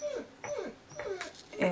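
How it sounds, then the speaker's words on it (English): Dogs whimpering indoors in a room, several short high whines that slide downward, fairly close and moderately loud, with no talk. "Excuse my dogs."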